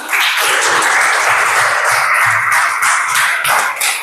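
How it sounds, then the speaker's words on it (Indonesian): A group of schoolchildren in a physical education lesson applauds in a loud, dense, continuous burst of clapping, close by, with faint voices underneath. "Tepuk tangan untuk kita semua."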